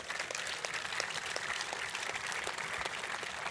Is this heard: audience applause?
yes